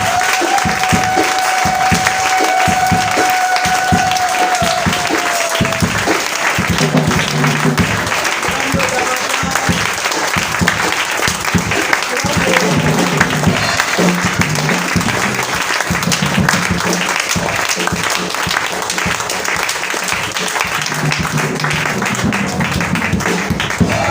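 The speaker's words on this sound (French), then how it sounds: "Et nous voulons aussi t'offrir des acclamations," A church congregation applauds in a loud, sustained wash of clapping for over twenty seconds, with crowd voices and occasional shouts mixed in and a brief tone near the start.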